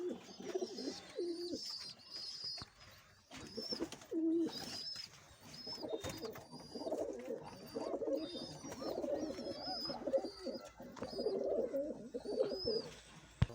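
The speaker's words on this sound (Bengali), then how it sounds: "এই আমার খোপে বুড়ো পায়রা, গাইস ফুলশিরা পায়রা" Fulshira pigeons in a loft coo steadily in overlapping low, rolling calls, close and continuous, with occasional higher chirps and wing flutters mixed in.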